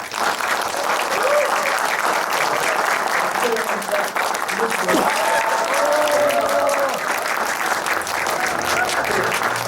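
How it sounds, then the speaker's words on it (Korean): Warm audience applause at a 2018 Korean performance event, continuous and loud for nearly ten seconds, with a voice faintly heard beneath the clapping. "다시 한번 뜨거운 박수"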